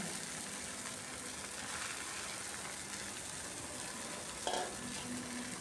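Leafy greens cook in a pan with a steady, soft sizzling hiss, joined by a brief stirring scrape near the end.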